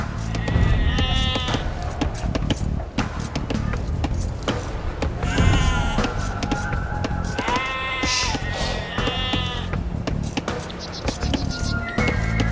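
Sheep bleat in Age of Empires 2 Definitive Edition, with repeated wavering calls that overlap one another. They sound over a busy layer of game effects and ambience.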